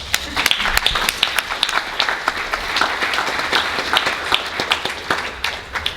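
Audience applause at a Comic-Con 2022 panel on Holocaust-era art: dense, steady clapping from a crowd filling the room for several seconds, with a few sharper individual claps standing out.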